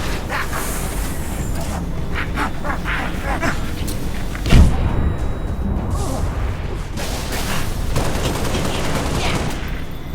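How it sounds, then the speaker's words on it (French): Gunfire in the Halo: Reach video game, a dense continuous spray of shots with one louder burst near the middle, mixed with engine rumble and battle noise and no clear talk. "Il me tire dessus."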